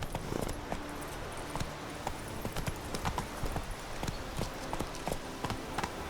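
Roach, the horse in The Witcher 3: Hearts of Stone, trots with a steady run of clip-clop hoofbeats over ambient game background, the strikes fairly close and regular throughout.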